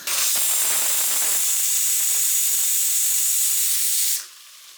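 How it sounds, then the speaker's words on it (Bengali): A kitchen pressure cooker's whistle blasts a loud, steady hiss of escaping steam for about four seconds, then cuts off abruptly, leaving a faint residual hiss. "প্রেশার কুকারের ডাক শুনলেন এইমাত্র"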